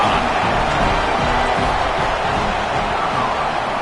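Stadium crowd at a college football game roaring after a Georgia touchdown, a dense, sustained wash of cheering and shouting that fills the space steadily without a break.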